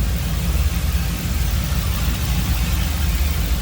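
A 1979 Chevrolet Camaro restomod with a 5.3 LS V8, shorty headers, a cold air intake and a mild cam idles in a steady, loud low rumble that stays unbroken and close, with no talking.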